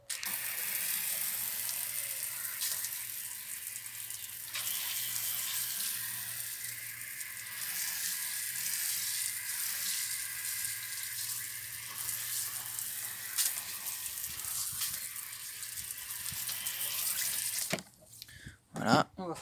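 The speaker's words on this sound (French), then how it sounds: "Donc on rince abondamment et on va frotter." Steady stream of water rinsing a wooden deck outdoors, a broad continuous hiss of running water lasting most of the way, ending with a few brief splashes and knocks.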